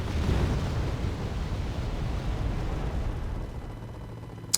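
Bombs pound a town in the strategy game Wargame Red Dragon, a dense, continuous rumbling barrage of explosions that stays loud throughout, ending with one sharp pop.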